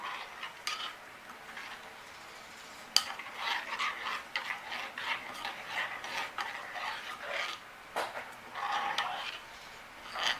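Caustic soda being stirred in water to dissolve it for soap made from used cooking oil, a steady scraping swirl with occasional sharp clinks, close and continuous with no talking.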